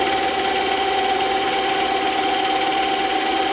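A power saw hums steadily while cutting EVA foam for a Hylian shield, a constant mid-pitched whine with a machine drone beneath it and no voices.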